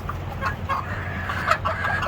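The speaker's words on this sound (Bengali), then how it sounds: "প্রচুর পরিমাণে গরম এর জন্য মুরগিগুলো হাঁসফাঁস করছে" Chickens cluck and pant constantly in a farm shed, suffering in extreme heat of about 46–47°C, with irregular close calls rising above a steady low hum from a running fan.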